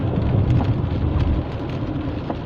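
Rain drums steadily on a car driving through traffic toward the mountains, a dense, constant hiss with a low road rumble underneath, slightly louder in the first half and easing a little afterward.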